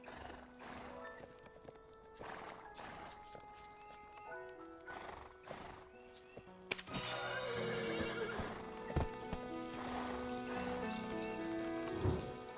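A horse in the video game Black Desert Online whinnies loudly and clops its hooves, with repeated neighs and a rising burst of galloping hoofbeats and shrill calls in the second half.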